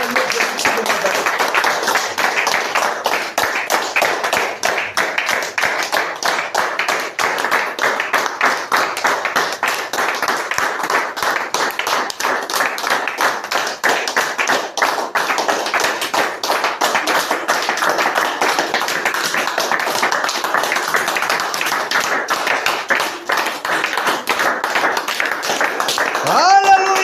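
A church congregation claps in steady rhythm for the whole stretch, a dense run of hand taps mixed with voices acclaiming and singing along.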